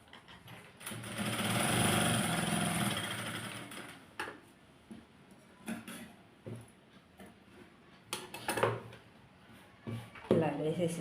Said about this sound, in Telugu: ఒక మడత మడుచుకొని 4 పక్కల ఇలా స్టిచ్ చేసేయాలి.